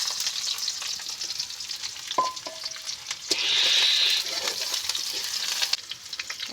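Chopped onions fry in hot oil with browned ginger and garlic, a steady close sizzle and crackle with a brief tonal beep partway through.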